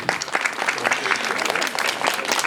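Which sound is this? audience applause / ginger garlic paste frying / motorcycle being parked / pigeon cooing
audience applause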